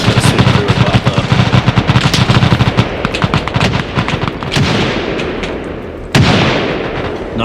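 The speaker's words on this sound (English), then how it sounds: "It sounds like a RPK though. Yeah, it's an RPK." RPK machine gun fire in the video game Stalker Reforged, dense rapid bursts of shots with cracking impacts and a few louder blasts, loud and close, with no talking.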